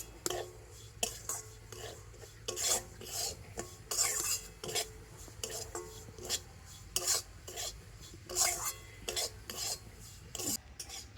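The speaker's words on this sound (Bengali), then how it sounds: "ঘিয়ের সাথে সুজিটা একটু ভেজে নেব" Semolina stirred and fried in ghee over very low heat, with a utensil scraping the pan in short, irregular strokes; the rasping is fairly faint, with quiet gaps between bursts.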